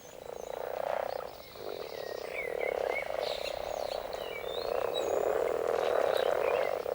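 A chorus of common frogs croaks steadily at a breeding site, overlapping trills and grunts rising and falling continuously with several calls close by and others farther off, no voices.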